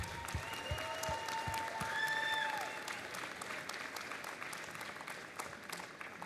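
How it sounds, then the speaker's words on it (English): Audience at a robotics state championship opening ceremony clapping at a distance, a soft steady wash of applause with tonal electronic sounds over it, fading slightly toward the end. "let's give everybody a round of applause for all your hard work."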